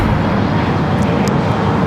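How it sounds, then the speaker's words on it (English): A KLM airliner taking off at LAX, a loud, continuous broadband engine roar heard from outdoors with no break across the short stretch. "Second KLM flight of the day also heading up."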